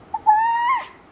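A young boy imitates a parrot's call with a single close, high, drawn-out squeal that briefly starts, then holds and fades.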